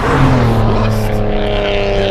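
Modified BMW 535xi Touring, a heavy wagon, accelerates in manual mode, engine tone rising in pitch under load, loud and close from inside the car.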